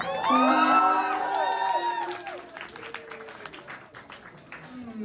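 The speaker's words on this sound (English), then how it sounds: "Give yourselves a big round of applause." At a pop concert in Manchester, a sung voice rings out briefly before the audience breaks into scattered cheering and clapping, the crowd noise moderate and fading in and out.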